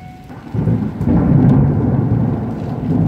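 Thunder rolls low and heavy over steady rain during a Cape Town thunderstorm, building into a loud, sustained rumble after a quieter opening.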